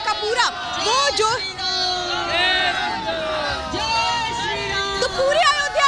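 A dense crowd of Ram devotees gathered in Ayodhya, lively babble of many voices with shouts and calls rising and overlapping throughout, close and busy.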